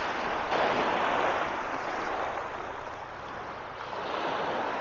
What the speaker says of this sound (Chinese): 你看这个海浪啊，一阵阵的涌过来啊，拍在那些礁石上